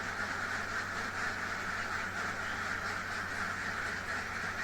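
A flock of laying ducks at a farm quacks during the morning egg harvest, a dense continuous chorus of overlapping calls blending into a steady din.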